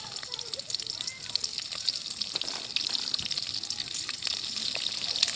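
Black cumin seeds and green chilies sizzle in hot oil in a pan, a steady bright crackling hiss that builds slightly and continues throughout.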